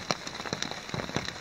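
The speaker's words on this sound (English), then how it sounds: "as you can probably hear, it's raining." Morning rain falls outdoors at a lakeside campsite, a soft steady patter with scattered individual drops tapping on a surface nearby.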